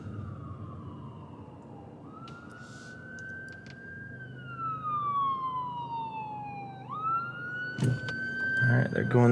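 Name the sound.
ambulance siren passing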